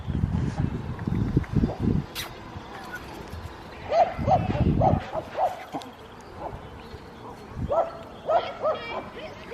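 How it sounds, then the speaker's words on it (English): Several dogs bark in bursts, sounding a bit distant, with a person's voice talking over them at times. "Oh, there's dogs barking."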